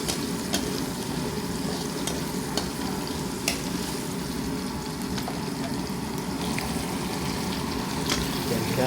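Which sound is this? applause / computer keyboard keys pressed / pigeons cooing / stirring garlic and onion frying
stirring garlic and onion frying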